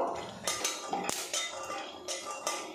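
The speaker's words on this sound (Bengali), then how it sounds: "এদিকে দেখুন বাদামটা নাড়াচাড়া করে ভেজে নিয়েছি।" A handful of peanuts roasting in a wok with a few drops of white oil, stirred as they cook, gives repeated close metallic scrapes and clinks in an uneven rhythm.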